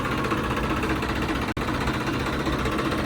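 A Sonalika 65 hp CRDI tractor engine runs steadily nearby, a dense, even rumble with one momentary dropout partway through.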